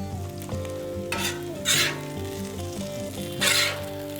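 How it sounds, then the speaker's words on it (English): Hash browns sizzle steadily on an outdoor griddle, a constant loud frying hiss with two swelling bursts of spattering and faint scraping, with no voices. "our hash browns are done, so let's get those off."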